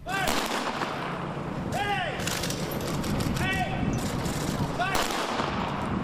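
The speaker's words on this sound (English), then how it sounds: "In the middle of Bridgeport, a 21-gun salute." Rifle volleys of a 21-gun salute at a police funeral in Bridgeport, heard as several loud, evenly spaced cracking bursts that echo outdoors over a steady crowd and ambient background.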